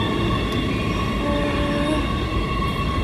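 A subway train hums steadily inside a Norwegian metro station, a continuous rumbling drone with faint tonal whines, close and unbroken for a few seconds with no talk.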